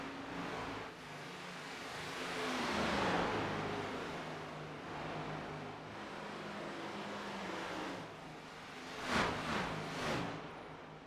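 A race car rolls down pit road at a Kansas oval, its engine droning and shifting pitch as it passes, with a couple of sharper revving bursts near the end.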